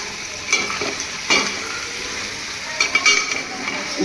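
Large pieces of crab are stirred in a frying pan over steady sizzling, with several loud scraping and clinking strokes standing out against the hiss.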